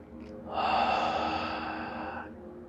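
A single long, audible breath drawn in and let out during a tai chi and qigong session, close and steady for about two seconds with no talk.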